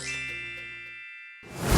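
A Samsung Galaxy Watch6 gives a single bright, ringing chime for a contactless tap-to-pay. The tone sustains for about a second and fades, followed by a brief whooshing noise.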